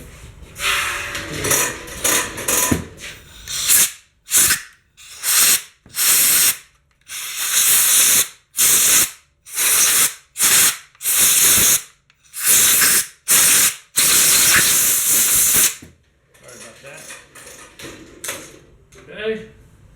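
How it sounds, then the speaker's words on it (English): Compressed air blows out a Husqvarna 450 Rancher chainsaw in a series of sharp, loud hissing blasts, about a dozen short bursts with brief gaps between them, while someone talks before and after. "Kind of blow that out a little bit"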